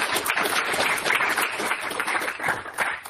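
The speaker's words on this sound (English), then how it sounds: "So let's give a round of applause for all of these people." A conference audience at a data summit gives a sustained round of applause, with dense, even clapping that fills the room for the whole stretch.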